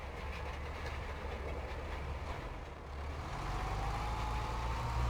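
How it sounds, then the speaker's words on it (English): Cambridge rolls roll across a field in Farming Simulator 22, a continuous low rumble with a faint rattle, dipping briefly midway and then swelling slightly louder with a rising engine tone. "These rolls make a heck of a noise"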